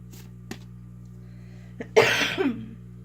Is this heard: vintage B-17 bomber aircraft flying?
no